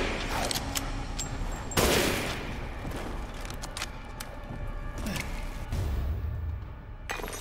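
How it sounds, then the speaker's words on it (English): Gunfire in the video game Resident Evil Village crackles through a busy, noisy game mix, with a couple of sharp, loud bursts standing out amid the din. "How many shots are you gonna take?"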